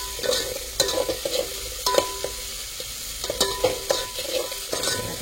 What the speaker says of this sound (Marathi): टोमॅटो घालतोय फोडणी